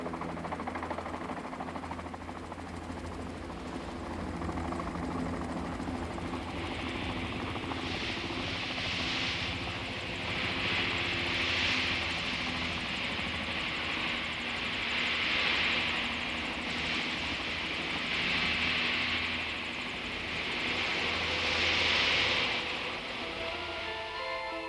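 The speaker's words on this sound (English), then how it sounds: "one team landed in Lowlan by helicopter" A helicopter comes in to land near the ruins of Loulan at the eastern edge of the Taklamakan Desert, its steady rotor drone pulsing in repeated swells that build louder toward the end, with no voices.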